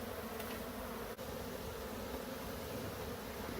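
A dense, steady buzz of many honeybees, close and continuous, with no pauses, during a hive removal from a storage unit.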